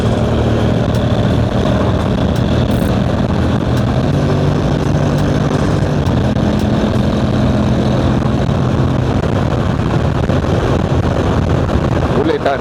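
Honda X-ADV 750 adventure scooter under way, a steady loud engine drone mixed with wind rush throughout, with a rider occasionally talking over it.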